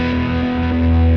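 OBNE Parting pedal producing a sustained, droning delay and reverb feedback tone, loud and steady with layered hum-like pitches, no voices.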